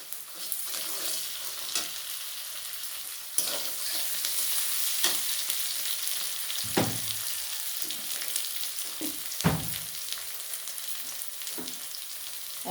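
Crushed garlic, four or five cloves, sizzles steadily in hot oil in a pan, a continuous loud frying hiss broken by a couple of stirring knocks and scrapes, with no talking.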